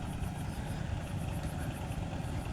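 Farm tractors roll past in a village convoy hauling rock, a steady low diesel rumble that holds loud and continuous throughout, with no voices.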